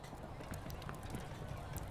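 Horse hooves clip-clop in the video game Kingdom, quick light repeated footfalls at a moderate pace, faint and under a soft background bed.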